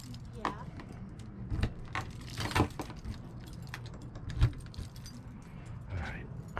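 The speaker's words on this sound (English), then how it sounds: "I got too many keys." An overloaded bunch of keys jangles and clinks in short metallic bursts, with a few sharper knocks, while people talk nearby.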